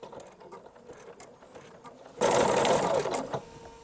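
A sewing machine stitching a zigzag with strong button twist thread runs in a loud, rapid mechanical burst for about a second after soft handling noises, close and without talk.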